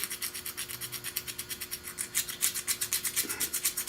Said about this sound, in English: with this sharp razor blade I'm gonna scrape this off